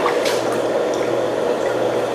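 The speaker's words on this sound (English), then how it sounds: "Rinse and fill large comparator tube to the 44 milliliter mark." Water running into a large comparator test tube during a pH water chemistry test, a steady close splashing and gurgling fill that lasts throughout, with no talking.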